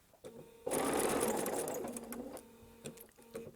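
Sewing machine stitching a curved seam in short bursts, a steady loud whir that starts abruptly and runs for about two seconds before stopping, with brief quieter mechanical taps around it.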